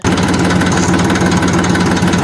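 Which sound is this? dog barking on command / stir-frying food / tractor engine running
tractor engine running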